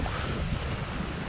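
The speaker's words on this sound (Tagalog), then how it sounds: "yung panahon dito, mahangin na malamig" Wind buffets the microphone in a continuous low, rumbling rush for a brief moment, with no voices.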